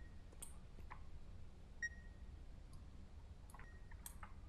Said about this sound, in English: Wait, that beeping.